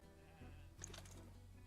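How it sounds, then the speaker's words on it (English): A sheep bleats once in the video game Outlaws of the Old West, a short wavering cry heard faintly over a steady background hum. "Huh, is that a sheep?"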